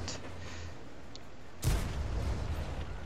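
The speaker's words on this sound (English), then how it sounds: "I poke over the ridge here to shoot at the SU-85 as they come out." A single loud, sharp tank cannon shot from an SU-85B tank destroyer in a World of Tanks-style video game, a sudden boom that decays into a rumbling tail over low engine drone.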